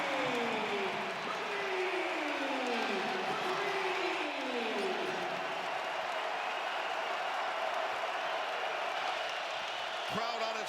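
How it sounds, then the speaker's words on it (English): Basketball arena crowd at the Kohl Center during a Michigan vs Wisconsin men's game, a broad roar of cheering and applause heard from a distance, with descending squeaks early on and a sharp sound near the end. "Crowd on its feet at Kohl Center."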